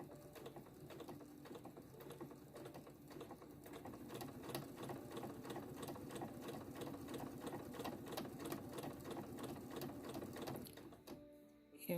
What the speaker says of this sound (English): So I'm going to make sure that the needle drops right in that ditch.